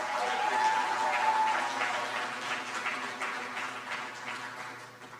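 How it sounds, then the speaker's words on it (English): An audience applauds at a general meeting, a dense wash of clapping that starts full and gradually thins and fades over a few seconds, with no talk over it. "one final round of applause for everybody else"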